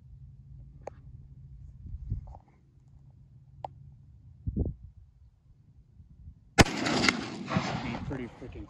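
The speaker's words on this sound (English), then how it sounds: "we're shooting 245 grain 50 caliber rounds" An inline muzzleloader fires a 245-grain .50-caliber round: a single loud, sharp report with a ringing decay near the end, following a stretch of quiet low rumble and a few faint clicks and knocks.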